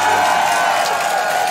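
A large crowd at a live song-contest final show applauds and cheers for a singer taking the stage, a dense, loud, continuous wash of clapping with a faint voice and music underneath.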